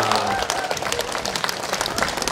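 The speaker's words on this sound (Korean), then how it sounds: "다시 한번 큰 박수 한번 주시기 바라겠습니다." Audience applause fills the space after a traditional dance performance at a herbal medicine culture festival in Daegu, a dense steady clatter of many hands with crowd noise and a voice underneath.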